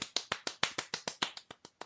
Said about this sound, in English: They applaud with one palm striking the back of another hand.